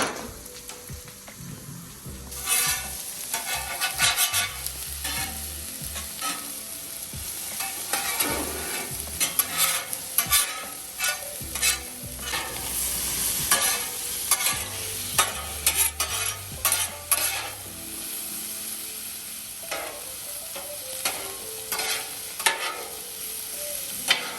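Vegetables and rice stir-fry on a hibachi griddle, sizzling steadily while a metal spatula scrapes and clacks against the flat top in irregular bursts, with occasional low rumbling underneath and no talking.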